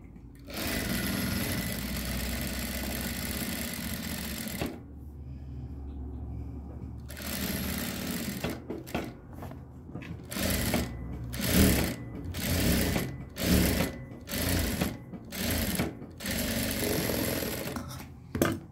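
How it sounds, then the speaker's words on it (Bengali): Sewing machine stitching a kameez neckline, a near, rapid mechanical whir in a long run, then a pause, then a series of short bursts with brief stops between them, with no talking. "তারপর এক পাশে এরকম সেলাই করবেন।"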